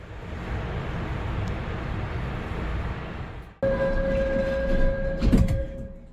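Inside a moving direct airport train, a steady low rumble of rails fills the carriage, then a sustained electric whine joins as it gathers speed, with faint clatter along the way.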